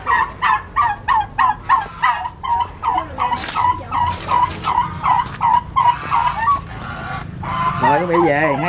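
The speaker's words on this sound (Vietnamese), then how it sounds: "Qua đây con mấy gà lôi nè." Pheasants calling in a rural setting, a run of loud, repeated nasal gobbling cries in quick rhythmic bursts, close by, with some background voices and a rising squeal near the end.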